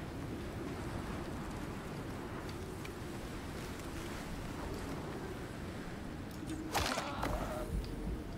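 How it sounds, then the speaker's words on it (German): A rainstorm in the survival game Icarus pours steadily as dense, even hiss, with a brief louder burst near the end that could be thunder or a gust, and no voices. "Der Sturm dauert noch ein Weilchen, tatsächlich."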